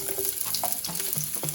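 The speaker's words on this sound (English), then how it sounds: "we're gonna go ahead and just add everything to the pot all at once" Onions, thyme, pepper and scallions sizzle and fry in a pot for ackee and saltfish, a close, steady crackle with faint stirring scrapes and no voices.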